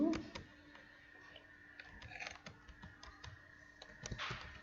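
Someone types on a computer keyboard: faint, scattered key clicks tap out in short irregular runs over a low background hum.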